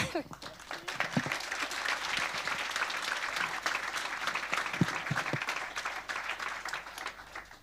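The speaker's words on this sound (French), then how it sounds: "on peut l'applaudir doublement" Applause for illustrator Benjamin Lacombe at a comic book publisher's presentation, fairly faint clapping from a small audience, steady and scattered with a few sharper claps and some murmured voices underneath.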